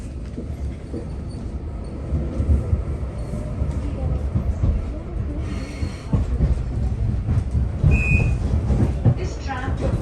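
A Nottingham tram on the Hucknall line runs steadily with a continuous low rumble and rolling rail noise, a brief wheel squeal near the end, and an onboard announcement voice heard over it.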